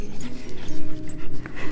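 A dog out on a walk pants steadily with rapid, close, loud breaths, and faint whimpers or yips come through the background noise.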